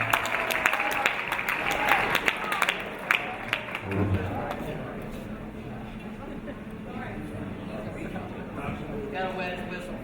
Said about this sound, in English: Let's give a big round of applause for brother and bride, Josh Lee,